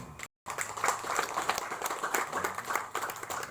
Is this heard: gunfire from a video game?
no